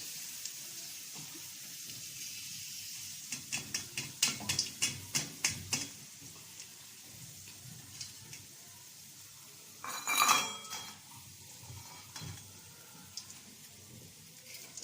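Oil is drained from a pot of frying onions for Egyptian koshari, with a rapid run of metal clinks and scrapes, a soft sizzle underneath and a louder pouring clatter midway, close by.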